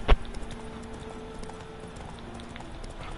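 Horse hooves clip-clopping in The Witcher 3 as a guard's horse moves, soft rhythmic footfalls at a steady pace over a low game ambience, with a brief louder thump at the start.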